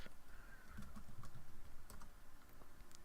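Quiet, close clicking of keys on a computer keyboard as a terminal command is typed, a steady run of soft taps with no talk.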